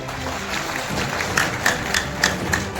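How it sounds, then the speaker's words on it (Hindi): Audience at a Jan Suraj political gathering applauds, scattered claps swelling into steady clapping over a crowd murmur, moderately close and continuous. "ताली जोर से नहीं लगा"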